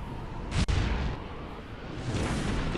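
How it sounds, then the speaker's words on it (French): A small explosion in the video game Kamen Rider Transcend Heroes: a muffled burst with a sharp crack near the start, followed by a rumbling, whooshing tail and a softer swell of noise later, with no talk. "Petite explosion calme."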